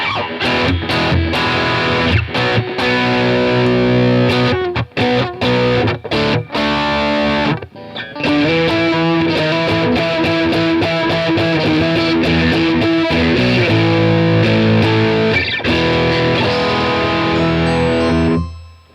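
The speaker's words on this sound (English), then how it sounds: "Listen to that noise from the single coil." A PRS Silver Sky electric guitar with single-coil pickups plays distorted chords and riffs with gritty, buzzing tone and pickup noise, loud throughout, breaking briefly midway before ringing out and fading at the end.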